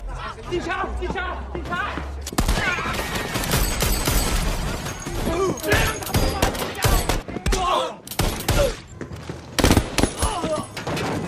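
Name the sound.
gunfire in the film Safe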